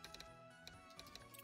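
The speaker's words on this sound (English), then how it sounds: "Clicky sound from the typewriters because it's cool" Typewriter keys click in quick, uneven bursts in the video game Workers and Resources: Soviet Republic, faint and sparse over a steady hum of background music.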